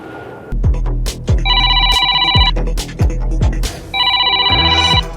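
An office telephone bell rings in two loud bursts, separated by a pause, over background thuds and movement.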